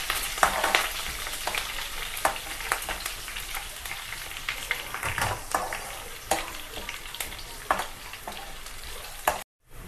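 Garlic and curry leaves fry in hot oil in a pan for vegetable khichdi, giving a steady close crackling sizzle with bursts of spattering and occasional stirring clatter throughout, no voices.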